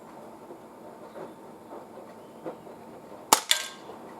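Springfield Armory XDE pistol fired at an outdoor range, two sharp shots in close succession heard from some distance, sitting over faint outdoor background noise.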